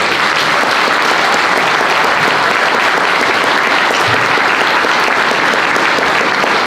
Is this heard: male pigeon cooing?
no